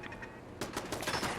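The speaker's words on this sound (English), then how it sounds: "There's a turret shooting at me here from somewhere." A turret in the video game Fallout 4 fires a rapid burst of gunfire. It starts with faint pops, then turns to loud, quick shots in the second half, with no talking.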